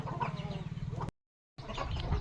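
Country chickens cluck in rapid, low repeated bursts close by, with a sudden brief dead gap before the clucking resumes, slightly louder.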